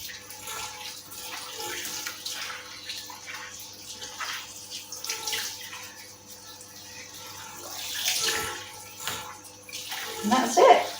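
Water running and splashing as conditioner is rinsed out of hair in a bath, a steady close wash with louder gushes near the end and soft speech in the background.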